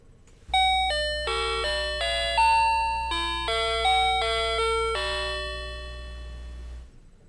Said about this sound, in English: that little chime that you heard is the Family Mart little sensor. The little door sensor plays that little song